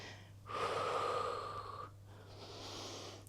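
A long, audible inhale through the nose during an abdominal exercise, close and breathy for over a second, followed by a brief pause and a softer, airy breath continuing beneath a steady low hum.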